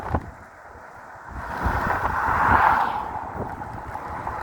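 Strong wind roars across the microphone in a steady, buffeting rush that swells louder midway during a ride, with no voices present.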